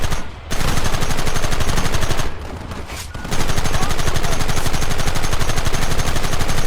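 Rapid gunfire from many weapons rattles in the video game Red Dead Redemption, a loud, dense, continuous volley with two short breaks.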